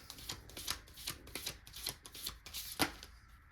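Tarot cards shuffled by hand in a rapid, rhythmic series of soft riffling flutters, close and fairly quiet, with no one speaking.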